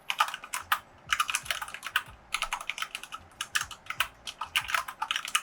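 Quick bursts of clicky keystrokes on a KGB65 Mini mechanical keyboard, close and crisp, in irregular rapid runs with short pauses between them.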